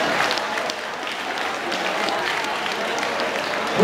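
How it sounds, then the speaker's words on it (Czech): Dance class participants clapping for themselves after a step sequence, a lively burst of many hands with a faint murmur of voices underneath, holding steady for a few seconds. "Zatleskejte si."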